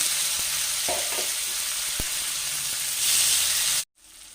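Tomatoes and green chillies tipped into a pan of frying onions give a steady low sizzle with a few brief clinks, then the sound cuts out abruptly near the end.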